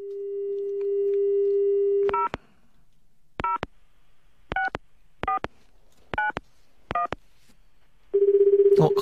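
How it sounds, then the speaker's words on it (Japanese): A landline handset dialing out: a steady dial tone, then seven separate keypad tone bursts at an uneven pace, followed by the tone of the call starting to ring through, all clear and close with no voices. "じゃあ電話かけたいと思います"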